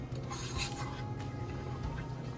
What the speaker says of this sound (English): And you mix that up pretty well.